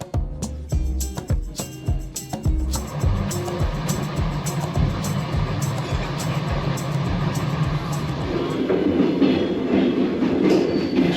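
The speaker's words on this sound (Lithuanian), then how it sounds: "Štai kas tikras traukinys yra, man labai patinka, kai girdisi jo važiavimo garsas." An old train rolling over rails on a route toward Estonia gives a steady clickety-clack of wheels on track joints, loud and close throughout, with a continuous rumbling carriage noise and no talk.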